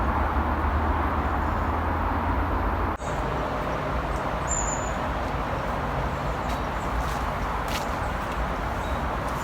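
Road traffic on the A27 near Portsmouth makes a steady, broad roar heard from a distance. The wash of sound stays constant throughout, with a brief dip and a faint high chirp.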